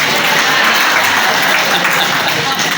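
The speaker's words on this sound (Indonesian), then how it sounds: "Tepuk tangan untuk anda lape" A gathering applauds Anda Lape, newly named sub-district head, at a peace ceremony for Tiworiwu and Nenowea, with loud, steady crowd applause and voices mixed in under the clapping.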